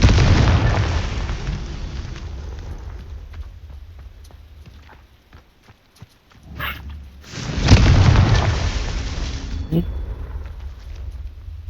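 A Confringo spell explosion in the video game Hogwarts Legacy hits as one loud booming blast with a rumbling decay, after a stretch of quieter game noise with light clicks and footstep-like taps.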